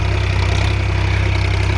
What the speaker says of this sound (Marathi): त्यामध्ये हा मस्तपैकी ट्रॅक्टर चालत आहे।